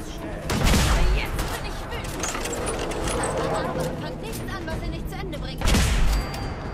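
Video game gunfire in Fallout 4, two heavy bursts near the start and end with steady combat noise between, while someone talks over much of it.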